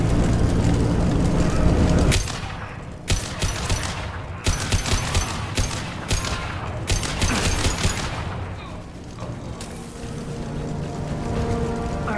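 Blue Suns mercenaries and Vorcha trading gunfire in Mass Effect 2, loud rapid volleys of automatic shots in separate bursts, with heavy rumbling noise between them and a quieter stretch near the end.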